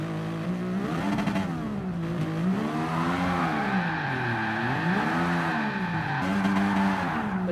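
A Gr.X race car engine in Gran Turismo Sport revs hard, its pitch climbing and dipping repeatedly as the throttle is blipped, loud and close throughout with no talking.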